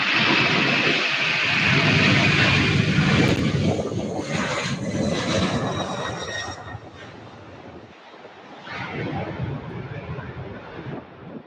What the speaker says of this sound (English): This is UPS 2960